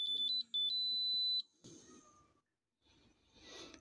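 Gas explosimeter for checking the inside of a fuel oil tank, beeping as it calibrates: a loud repeated high-pitched electronic beep with a steady tone for about a second and a half, followed by quieter handling and background noise.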